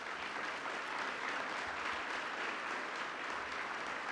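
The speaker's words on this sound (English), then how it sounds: "give them a round of applause" A chapel audience gives a sustained round of applause for newly crowned 2012 NCCAA women's volleyball national champions, an even wash of clapping throughout, moderately distant.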